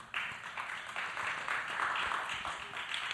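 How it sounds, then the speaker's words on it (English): A live podcast audience applauding, a steady bright wash of many hands clapping that fills the room, moderately loud and continuous throughout. "Sorry to step on your applause break"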